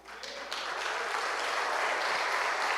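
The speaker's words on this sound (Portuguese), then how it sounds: "As palmas louvam ao Senhor." A church congregation clapping together in praise, dense steady applause building quickly and holding at full strength throughout, moderately distant with roomy reverberation, no voices.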